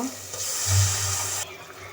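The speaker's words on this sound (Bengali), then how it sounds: "এখন কষানোর জন্য পানি দিয়ে দিব" Water is poured into a pan of spiced duck curry with fried ginger, garlic and turmeric for braising, giving a steady, hissing sizzle at close range that cuts off abruptly partway through.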